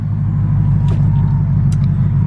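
A manual car's engine idles steadily just after ignition, a loud continuous low rumble with a faint hum, alone and unchanging for about two seconds.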